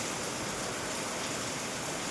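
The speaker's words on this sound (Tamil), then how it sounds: "ரொம்ப நாளைக்கு அப்புறம் இந்த மழை ரொம்ப வருது" Heavy rain pours steadily in a broad, constant hiss, close and unbroken, with no voices over it.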